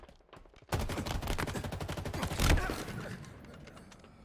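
Rapid automatic gunfire in Halo Infinite, a loud close burst of evenly spaced shots lasting a couple of seconds with a heavier blast near the end, then trailing off into a fading echo.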